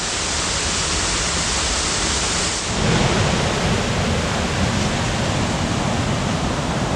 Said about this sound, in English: One of the smaller waterfalls.